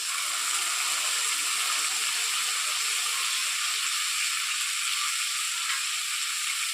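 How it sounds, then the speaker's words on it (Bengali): Spices frying in hot oil for a kalbaus fish dish, the oil spattering in a loud, continuous hiss and crackle that stays steady throughout. "প্রচন্ড তেল ছিটাইছে"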